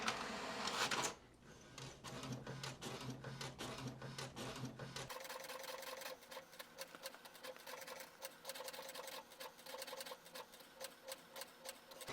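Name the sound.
HP printer printing an alignment sheet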